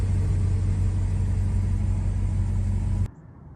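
A Ram 1500 pickup truck's engine runs steadily with a loud, low rumble that holds even for about three seconds, then cuts off abruptly, leaving quiet background.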